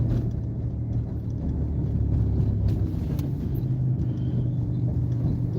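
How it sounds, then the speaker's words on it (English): A car rolling slowly around a residential cul-de-sac, its low engine and road rumble holding steady and moderately loud from inside the cabin throughout. "This is another cul-de-sac, and I'm just gonna go around slow, take my time"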